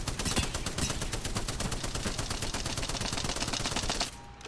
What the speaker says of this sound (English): And you could just keep shooting.